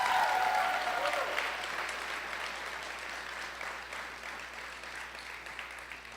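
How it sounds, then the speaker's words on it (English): An audience applauding election candidates on a university student elections results night, loud sustained clapping that slowly fades over several seconds. "So I ask for a round of applause for all our candidates here tonight"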